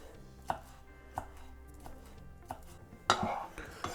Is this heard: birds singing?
no